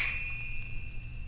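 A bell strikes once, leaving two bright, ringing tones that hang steadily over a low background rumble.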